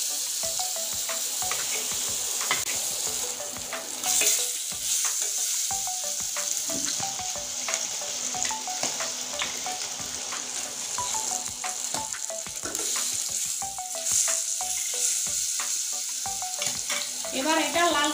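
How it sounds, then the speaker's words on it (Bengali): Rupchanda fish frying in hot oil, a loud continuous sizzle and crackle with occasional scraping stirs and light pan clatter, close by and without voices. "এবার এটা লাল করে ভেজে নেব।"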